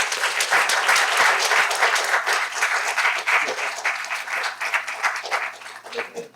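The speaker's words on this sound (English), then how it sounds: "Let's give a round of applause," A crowd applauds at a school district board meeting, with dense steady clapping that stays loud for several seconds before gradually thinning out toward the end.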